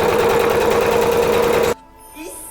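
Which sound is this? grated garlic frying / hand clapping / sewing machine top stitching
sewing machine top stitching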